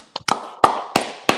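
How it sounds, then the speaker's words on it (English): A handful of sharp, separate claps sound close and fairly loud, about five hits in a little over a second, from one person rather than a crowd. "Round of applause."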